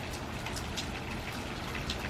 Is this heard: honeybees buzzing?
no